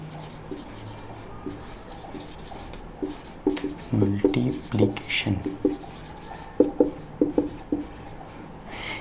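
Chalk or marker writing equations on a board during a maths lesson, short scratchy strokes coming in clusters with pauses, close, while a teacher talks over them.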